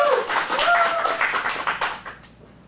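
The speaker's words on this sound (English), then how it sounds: "Let's get a round of applause." Audience clapping at a kids' dramatic film acting showcase, a burst of hand claps under a few overlapping voices, fading out near the end.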